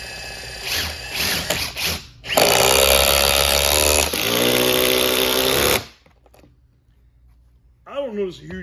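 Milwaukee and Ridgid impact drivers drive fasteners in loud, hammering bursts: a few short stutters, then two long sustained runs with a brief pause between. A voice is heard near the end.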